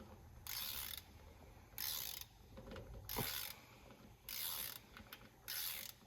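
Ratchet wrench tightening a bolt on a pulling tractor, heard as several bursts of rapid clicking separated by short pauses, close and fairly loud over a low background hum.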